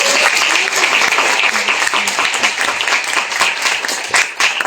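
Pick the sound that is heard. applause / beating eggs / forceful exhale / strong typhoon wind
applause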